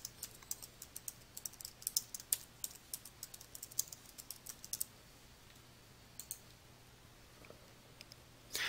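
Someone types a short description on a computer keyboard, a quiet rapid run of key clicks that pauses, then a few more keystrokes and a final click.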